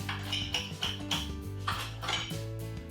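A knife and fork clatter and scrape against a plate of spring greens rice rolls, a few close metallic clinks and taps over about three seconds with no talking.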